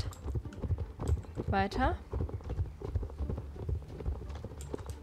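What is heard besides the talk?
horse hooves clip-clopping while riding in video game Star Stable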